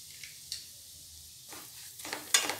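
Semolina poured into hot melted desi ghee and stirred, giving a quiet sizzle with scattered scraping stirs that grow louder and busier toward the end, no talking.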